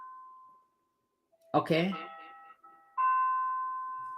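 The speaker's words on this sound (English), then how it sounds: "My bell is ringing." A doorbell rings, a tonal chime fading at first, then a later sustained ring, with a person speaking briefly between the tones.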